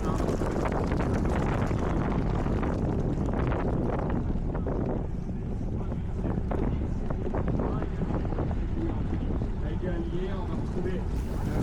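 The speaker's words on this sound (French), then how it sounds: "Donc là, on voit bien la force du vent, hein." Strong wind buffets the microphone at an outdoor cyclo-cross race, a loud continuous rushing roar with gusting swells throughout, while a voice talks underneath.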